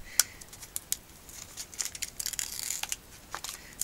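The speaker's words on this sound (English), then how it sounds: "So if you want to just peel off that strip" A strip of label is peeled off a sheet of wood-mount stamp stickers, giving faint, scattered crinkling and tearing crackles in short bursts close to the mic, with no talking.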